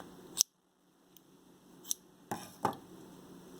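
Scissors snip crochet yarn in a few sharp, close cuts spaced unevenly over a few seconds, in an otherwise quiet room.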